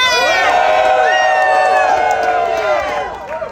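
A rally crowd cheers and whoops loudly, a dense wall of many shouting voices that holds strong and then starts to fade near the end.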